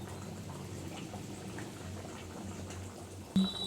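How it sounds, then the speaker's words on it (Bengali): A pot of Bengali mustard hilsa curry gravy with raw oil drizzled over bubbles at a steady low simmer, a soft continuous burble that stays even throughout, with a brief louder clink near the end. "দেখুন বন্ধুরা, ঝোলটা ফুটে উঠেছে"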